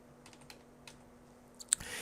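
Typing on a computer keyboard while entering a DOS command to start dBase, a few faint scattered key clicks ending in a sharper tap, quiet with no voices.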